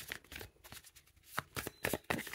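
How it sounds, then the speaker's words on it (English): Playing cards being shuffled, a run of quick papery riffles and flicks up close, with brief pauses between bursts. "Too many cards. All right, let me shuffle."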